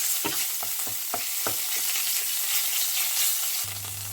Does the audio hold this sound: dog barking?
no